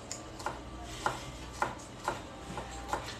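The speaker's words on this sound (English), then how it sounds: "doing a really good job cutting that onion" Knife chopping an onion on a board in a home kitchen, six or seven evenly spaced crisp cuts about half a second apart, close and moderately loud over a low background hum.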